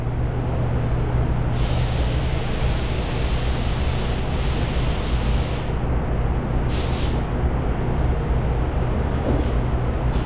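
Steady, loud hiss of a spray gun painting a fender on a 1960 Chevrolet Impala, continuous broadband spray with brief pauses, over a low hum of compressor or shop equipment, no talking.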